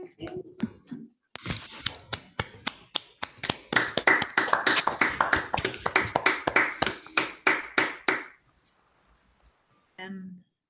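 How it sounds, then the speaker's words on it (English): Online participants unmute and clap to thank a speaker at the close of an ACT 2021 conference session, giving scattered, uneven claps that start thin, swell into a dense patter, then stop abruptly, with a brief voice at either end. "let's thank JS by unmuting and clapping"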